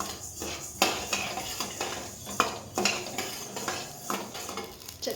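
Mustard seeds and whole spices such as cloves being added to a pan while making homemade sambar powder, with a series of sharp clinks and scraping stirs recurring about once a second, close and fairly loud, no talking.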